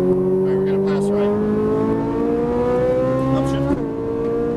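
A Ferrari 458 Italia engine pulls hard on a race track from inside the car, its high steady whine climbing in pitch before a quick shift dip near the end, with a voice speaking over it.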